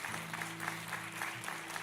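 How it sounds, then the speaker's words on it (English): Church congregation applauding after people say yes to Jesus, a dense steady wash of clapping over a low sustained musical drone, with no break across the stretch. "That's something to clap about"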